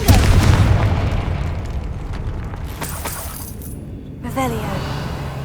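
A Confringo fire spell explodes in the Hogwarts Legacy video game, a loud booming burst at the start that rolls off into a rumbling tail, with a voice speaking over it.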